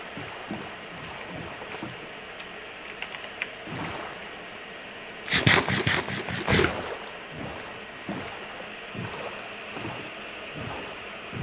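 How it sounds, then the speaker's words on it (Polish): A boat glides across open ocean in the Minecraft video game, a steady wash of water and wind running throughout, with a louder splashing rush in the middle and faint clicks scattered around it. "Dobra, po prostu będę płynął przed siebie."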